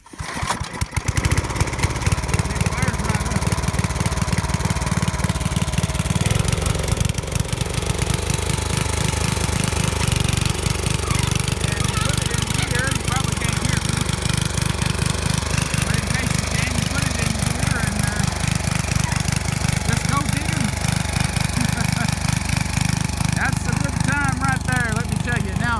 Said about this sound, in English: This is an 8 horsepower Briggs & Stratton, and Dad's going to start it for us here.